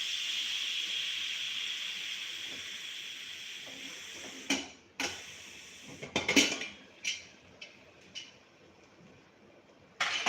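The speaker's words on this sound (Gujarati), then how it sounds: "હવે આપણે સરગવાની સીટી ખોલી લેશું, એટલે સરગવો વધારે બફાય નહીં." A pressure cooker holding drumsticks has its whistle lifted, and steam hisses out steadily for several seconds before a series of sharp metallic clinks from pots and utensils.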